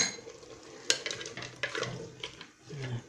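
Frik, cracked green wheat, frying in a pot for chorba while a utensil stirs it: soft sizzling under scraping and clinking stir strokes, close and steady, with no voice.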